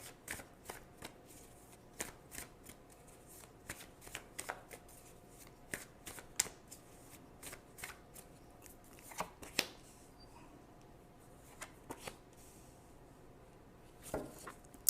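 Tarot cards are shuffled and handled close up, soft riffling and flicking taps scattered irregularly over a quiet background.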